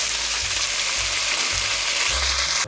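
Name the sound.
ground beef sizzling as it is added to the pot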